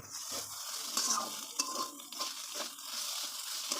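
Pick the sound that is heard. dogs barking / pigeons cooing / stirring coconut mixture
stirring coconut mixture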